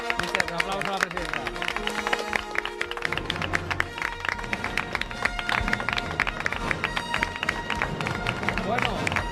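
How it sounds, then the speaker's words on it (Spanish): A studio audience at an Onda Cero radio broadcast applauds for the president, a dense, steady patter of clapping that carries through the whole stretch with some murmuring beneath it. "Un aplauso a la presidenta."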